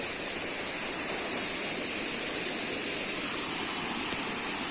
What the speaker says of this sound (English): that is a nice wee waterfall